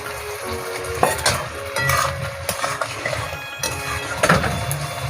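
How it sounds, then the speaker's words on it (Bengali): Fried taro (kochur mukhi) being stirred in a pan with spices for hilsa curry, steady sizzling under repeated scraping and clinking of a spoon against metal. "মা নেড়ে ভালো করে মিশিয়ে নিচ্ছে।"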